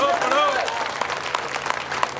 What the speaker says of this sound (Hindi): ताली बजाओ फिर बताओ पढ़ो की जाऊं।